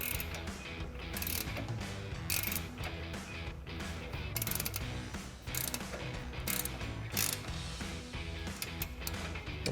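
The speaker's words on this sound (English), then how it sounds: "going to grab a 21mm ratchet wrench and get this nut loose" A 21mm ratchet wrench works loose a tie rod nut on a Jeep Gladiator, giving busy, repeated mechanical clicking and clattering throughout, close and fairly loud.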